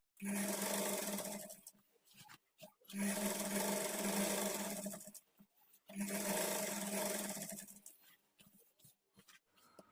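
Three long, even bursts of a sewing machine top-stitching a kids' lehenga border, each run humming steadily for a couple of seconds with short stops between, close and loud.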